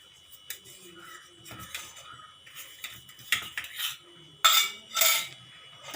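A utensil scrapes and taps around the sides of a pan to loosen homemade wheat halwa, giving short, close metallic scrapes that grow louder and sharper toward the end.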